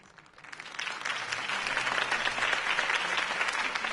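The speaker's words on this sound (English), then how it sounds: "could have heard that applause" A video game crowd applauds steadily, swelling in the first second and then holding at a loud, sustained clapping with no voices over it.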